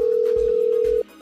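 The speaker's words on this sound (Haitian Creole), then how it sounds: "phone a sonné" A phone gives a steady, close electronic ring tone with faint rhythmic pulses beneath it, stopping sharply after about a second.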